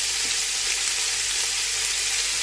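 Lean minced beef, about 90 percent lean, browns in a hot pan with a loud, even sizzle that holds close and constant, with no voices over it.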